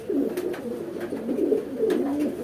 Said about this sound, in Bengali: কবুতরটা অনেক সুন্দর